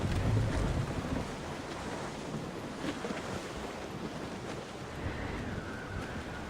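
Wind and waves on the open sea aboard a sailing ship in Assassin's Creed Rogue, a steady wash of surf under a rushing, gusty wind, continuous and fairly loud with no voices.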